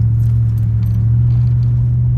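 Steady low drone from a 2003 Chevrolet Silverado's engine and exhaust inside the cab while accelerating just under 2,000 RPM on all-terrain tires, a constant close hum with no talk.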